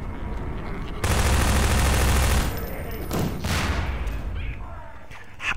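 A loud burst of rapid gunfire from an enemy in the Half-Life 2 video game, followed by scattered shots and booms fading under game noise.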